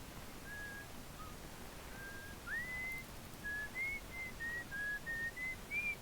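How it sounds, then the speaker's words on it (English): Faint melodic whistling in the video game Outer Wilds, a series of thin, wavering sustained notes drifting from a distance over a steady low hiss. "Someone whistling over there."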